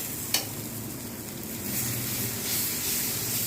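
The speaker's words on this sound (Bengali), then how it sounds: "তো দেখো মশলাটা আমি ভালো করে কষিয়ে নিচ্ছি" Spice paste (masala) sautéing in a pan for an egg dish: a steady, close sizzle with a sharp stirring knock near the start, and the frying hiss swells slightly toward the end.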